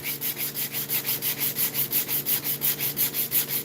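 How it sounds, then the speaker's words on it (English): A sander works back and forth across a wood surface in a quick, even rhythm of about five strokes per second, close and steady, with a faint motor hum underneath and no voices. "But I am also extremely used to that sander"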